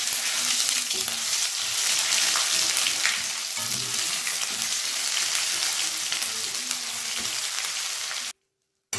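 Steady, dense sizzling of ginger-garlic paste frying in hot oil, continuous and close, cutting off abruptly near the end.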